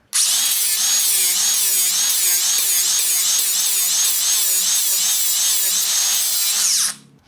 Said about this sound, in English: I'm just going to sand it down close to that line